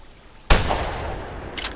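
A single loud shotgun blast from The Hunter hunting game, a sharp broadband crack that decays into a sustained rumbling tail, with a faint higher rattle near the end.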